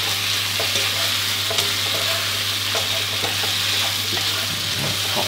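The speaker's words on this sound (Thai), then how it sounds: "ผัดคลุกเคล้าให้เข้ากันดีครับ" Shrimp and broccoli with ground pepper are stir-fried in a hot pan, making a loud, steady, close sizzle with continuous tossing and scraping throughout.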